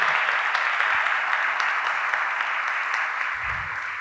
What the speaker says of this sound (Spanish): Un aplauso fuerte para ellos